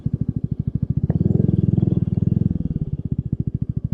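Royal Enfield Meteor 350 motorcycle with custom chrome spoke wheels, its single-cylinder engine thumping in a fast, steady pulse close by as it rides, rising briefly in throttle before settling back.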